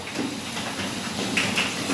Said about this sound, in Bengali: এইদিকে আমি ভেন্ডি ভাজছি